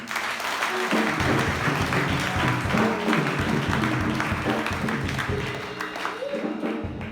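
A church congregation applauds during a service at Église Piscine de la Libération, sustained clapping with a low rhythmic rumble running under it, fairly loud and continuous for the whole stretch.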